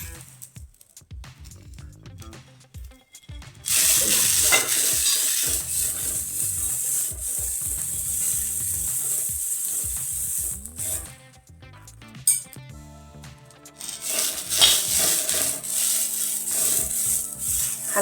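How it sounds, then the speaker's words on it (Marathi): Fresh cowpeas dry-roasting on a hot tava, giving soft rattling, rubbing and scraping as they are stirred, with a brighter hissing texture in bursts, close and quiet. "हलकी चवळी भाजून घ्यायची."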